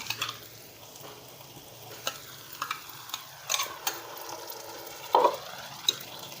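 A masala paste of blended spices with ginger-garlic, loosened with a little water, sautés in a pan: a soft steady sizzle with scattered scrapes and clicks of a spoon stirring, close by and fairly quiet.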